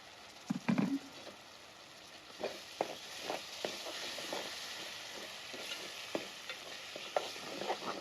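Tomato puree splashes into a pan of frying palak paneer gravy with a wet plop, then soft sizzling and repeated stirring scrapes follow with no talking.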